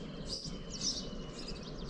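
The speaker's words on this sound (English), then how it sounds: "sound of the birds" Birds chirp and tweet outdoors at Plitvice Lakes National Park, Croatia, in light, scattered calls over a soft steady background hum, fairly quiet with no talking.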